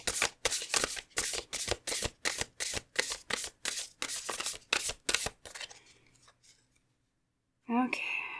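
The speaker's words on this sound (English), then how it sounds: "let us pick our cards to choose our piles with right now with a good shuffle" Deck of tarot cards shuffled in rapid, crisp riffling bursts at a steady rhythm for about five seconds, close and clear, then quiet before a brief soft sound at the end.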